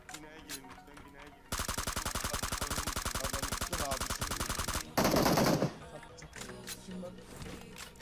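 Automatic gunfire in PUBG Mobile: a long, loud, rapid burst lasting several seconds, then a harsher short burst, with quieter game sounds and faint voices before and after.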